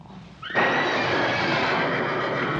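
Horses whinny loudly and shrilly in a scene from the film Young Frankenstein, the sudden neighing bursting in after a quiet moment and ringing on for about two seconds.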